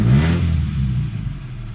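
A Toyota Corolla engine revs high, a loud steady mid-pitched roar that swells at the start and holds throughout, close by with no talking.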